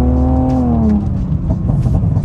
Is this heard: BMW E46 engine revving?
yes